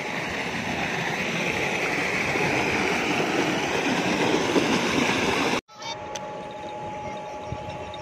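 A village tubewell pumps out flowing water in a loud, steady rushing roar up close, which abruptly cuts off near the end, leaving a faint quiet background.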